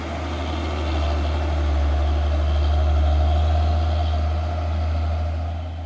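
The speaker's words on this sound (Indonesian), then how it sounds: "Truk tronton Hino Jumper ini ya, Euro 4." A Hino Jumper Euro 4 heavy tronton truck's diesel engine idles steadily with a deep, constant low rumble, close by and unchanging throughout.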